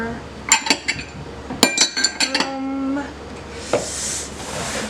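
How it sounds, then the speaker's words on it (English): A DIY salt body scrub stirred by hand in a bowl, heard as a cluster of close, bright clinks and scrapes of utensil against the bowl, then quieter grainy mixing with a single later clink. "I will be hand stirring this"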